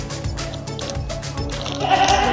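Goats bleat repeatedly around a milking session on a farm, several short wavering calls overlapping at close range with no talk.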